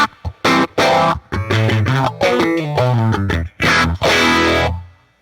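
Distorted electric guitar played through an amp simulator with a modern blue speaker cabinet: loud, punchy chugging riffs and sustained chords, played alone with short pauses between phrases.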